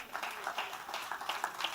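Congregation applauding during a church service, a quiet, somewhat distant patter of many hands clapping in an irregular, bursty rhythm.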